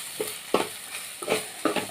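Spices with garam masala are stirred while frying in a pan, with five spatula scrapes at an uneven pace over a steady, soft sizzle, close and fairly quiet.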